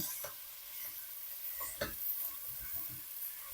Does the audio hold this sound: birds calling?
no